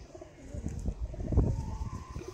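Low, soft cooing of Sialkoti pigeons murmurs close by, overlapping in a steady throaty rumble with faint background noise.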